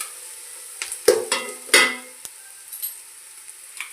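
Sliced onion sautéing in a pan crackles softly, with a few sharp scrapes and clacks from stirring standing out against the quieter hiss.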